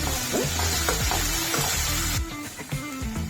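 Green chilli paste, ground with salt, fries in oil in a pan for a fenugreek and gram flour palya, a loud, close sizzle that softens and thins out after about two seconds, with no talk.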